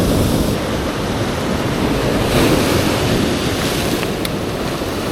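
Big ocean waves surge against the rocks at a Sydney rock-fishing spot, a continuous heavy roar of surf and wash with wind buffeting the microphone, loud and unbroken throughout.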